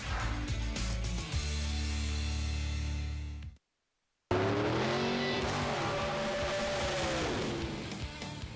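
Drag racing car engine roaring loudly with steady revving and tire noise, a brief cut to silence midway, then another car's engine surging with rising and falling pitch.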